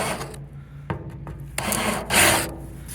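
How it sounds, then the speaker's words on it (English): A countersinking tool deburrs the sharp edges of drilled holes on a 1977 StarCraft Holiday boat, giving short, loud rasping scrapes in several separate bursts, the last one longest. "that countersinking tool is just going to clean them all up real nice"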